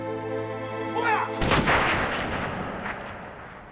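A rifle volley fired on a German command at dawn in 1943 cracks out as one loud, sharp report after a sustained tone, then rolls into a long echoing decay.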